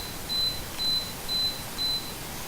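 A dehumidifier in a home flight-simulator room beeps four times in a slow, even rhythm, each tone short and clear over a steady background hum.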